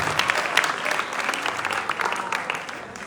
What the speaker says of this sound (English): a very, very big round of applause for the National Culture Troop